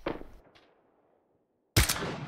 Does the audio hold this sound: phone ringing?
no